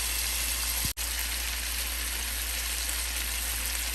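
Honey garlic chicken drumsticks fry steadily in a pan, a continuous broadband sizzle with a brief dropout near the start, close and even throughout with no talking.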